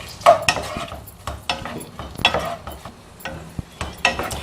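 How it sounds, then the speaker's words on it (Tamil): Sliced large onions go into melted butter in a pan and are stirred, giving close scraping and clattering strokes over a low frying hiss. "முதல்ல நம்ம பெரிய வெங்காயத்தை போட்டுக்கலாம்."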